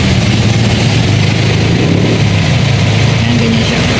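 A Toyota Corolla 2E's original condenser fan runs continuously at close range, a loud steady whir over an idling engine with a faint mechanical hum.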